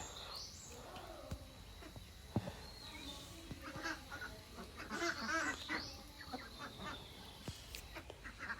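Farm ducks in a cleaned room with fresh sand bedding on an Assam duck farm, small and large birds kept apart, give scattered quacks and calls over a steady background murmur, moderately close.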